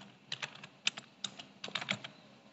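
Fingers tap on a computer keyboard in a short, irregular run of close, crisp keystrokes, quiet and alone.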